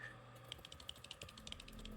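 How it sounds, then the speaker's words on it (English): Fast, uneven keyboard typing, a computer keyboard bashed in rapid irregular clacks, close and fairly quiet with no talk. "I'm just bashing away on my keyboard."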